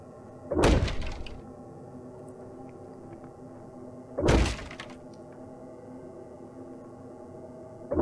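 A door in the horror survival game Darkwood, heard as two heavy thudding bursts about four seconds apart, loud and close over a low, quiet background with no speech.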